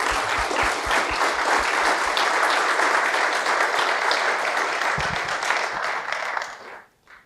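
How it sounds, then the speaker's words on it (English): A conference audience at an Open edX event breaks into sustained, dense applause, loud and close, with a few hand claps standing out before it fades away at the end. "Give yourselves a round of applause because this TOC was amazing."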